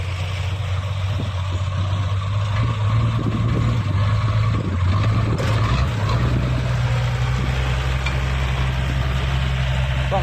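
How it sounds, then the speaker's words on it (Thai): A tractor engine labouring in the rain on muddy ground near a soil pond, a loud, continuous low rumble that rises and falls slightly as it pushes, with faint background voices. "รถไถดันซอยตลอดครับพี่น้อง"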